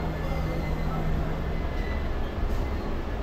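A train at Bhubaneswar railway station, heard as a continuous, fairly loud rolling rumble with a faint steady hum, close by and without clear speech.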